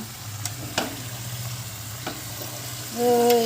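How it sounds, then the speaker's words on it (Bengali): A karahi pan turns on the stove while desi chicken curry braises in it. A steady low sizzle runs throughout, broken by a few sharp scraping clicks, and a humming tone swells in at the end. "মাংস কষানো কড়াটা খালি ঘুরেই যাচ্ছে ঘুরেই যাচ্ছে"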